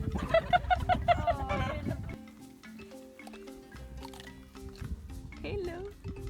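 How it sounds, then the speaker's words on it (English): A hen clucks in a rhythmic burst of about six calls near a hut in a Zimbabwe village, then quieter scattered farmyard sounds follow with a voice speaking over them. "Our hut came with this chicken who continuously tried to come inside and lay on our bed"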